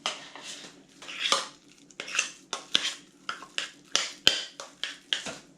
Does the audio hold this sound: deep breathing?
no